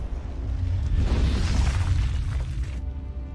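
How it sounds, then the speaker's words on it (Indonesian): A missile explodes and destroys a helicopter: a loud, rumbling blast with a crackling, debris-filled roar that swells and lingers for a few seconds before cutting off. "misil itu meledak dan menghancurkan helikopter"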